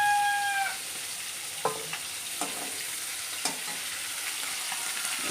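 Fish pieces fry in a pan with a steady sizzle, punctuated by a few sharp clicks of stirring or turning; a rooster crows briefly in the background at the start.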